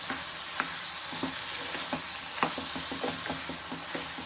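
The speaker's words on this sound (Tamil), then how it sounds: "இதை வந்து இந்த வெங்காய கிரவியோடு இதை ஒட்டுற மாதிரி நல்லா பரட்டி விட்டுக்கணும்" Soya chunks are stirred into onion gravy in a pan, with a soft continuous sizzle under repeated light scraping and tapping of a spoon against the pan, fairly quiet and close.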